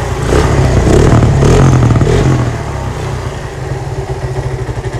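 Suzuki Satria FU 250 motorcycle engine fitted with an RX King carburettor, freshly rebored and still tight, revs loudly for a couple of seconds, then drops back to a steady, slightly uneven idle.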